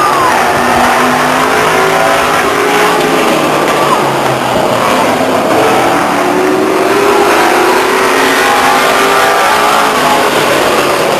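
Race car engines roar continuously down the front stretch at Stockton 99 Speedway in 2000, a loud, dense wall of revving motors with pitch sweeps as the cars pass, with a faint announcer voice underneath.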